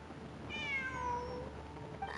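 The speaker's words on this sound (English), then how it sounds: "It really is a cat." A cat gives one drawn-out, falling meow at moderate distance in a quiet room, with a brief faint noise just after.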